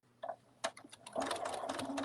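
A sewing machine stitching around the edge of a cuddle bunny, starting with a few faint clicks and short bursts before settling into a quiet, continuous run, close by with no talk.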